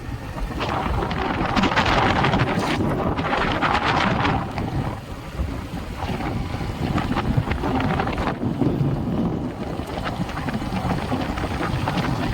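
Strong wind buffets the microphone with a continuous roar while riding, the gusts swelling and easing, and no voices.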